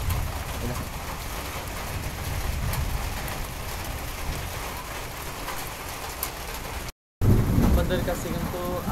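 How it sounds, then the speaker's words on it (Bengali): Rain begins falling during a lightning storm, a steady hiss of drops close around, broken by a brief dropout and returning slightly louder, with no speech over it. "অলরেডি বৃষ্টি নামা শুরু হয়ে গেছে অলরেডি"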